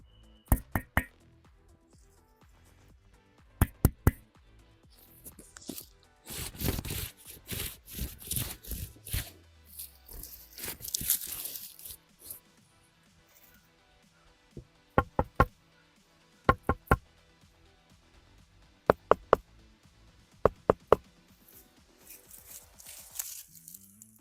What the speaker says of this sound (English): let's check out the quality of these components with our knock-knock test